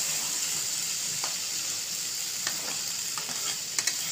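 Egg khichdi sizzles in a pan as a spoon stirs it, a steady hiss of frying broken by a few sharp clicks of metal against the pan toward the end.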